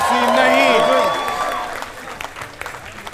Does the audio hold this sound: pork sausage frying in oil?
no